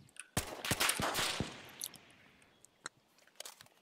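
Rapid rifle gunfire in a DarkRP video game, a quick burst of sharp shots fired in fast succession, followed by a few scattered fainter clicks and pops.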